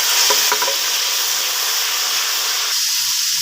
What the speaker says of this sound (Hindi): अब हम अदरक और लहसुन का पेस्ट इसमें शामिल करेंगे।